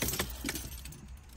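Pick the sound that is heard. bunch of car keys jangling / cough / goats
bunch of car keys jangling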